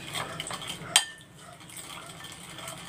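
Garlic, ginger and onion stirred in a bowl for an ampalaya and radish salad, with soft scraping and clinking of a utensil and one sharp clink near the start, close and fairly quiet.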